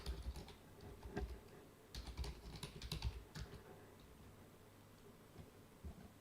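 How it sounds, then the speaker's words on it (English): Keys clatter on a computer keyboard in uneven bursts of quick taps, some louder strokes standing out, then thinning to sparse single presses against a quiet background. "we'll try typing in some stuff"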